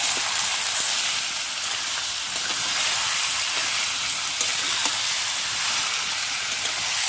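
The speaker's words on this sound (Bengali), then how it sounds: "আর এই যে দেখো আদা রসুনটার সাথে দিয়ে দিচ্ছি চিকেন।" Chicken pieces frying in a pan with ginger-garlic paste and spices, giving a steady, close, bright sizzle and hiss that holds evenly throughout with no talking.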